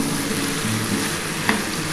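Spice masala frying with taro stolons (kochur loti) in a pan for a shrimp dish gives a steady, even sizzle that stays close and continuous throughout, with one brief sharper pop near the end.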